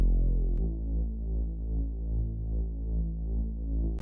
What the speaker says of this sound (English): It's sidechain to the kick, so you can hear it kind of doing its womp womp.